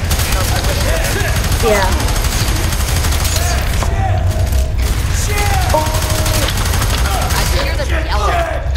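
Rapid sustained gunfire from weapons in the shooter F.E.A.R. 3, loud continuous bursts of shots and impacts throughout, with a player's voice briefly heard over the barrage.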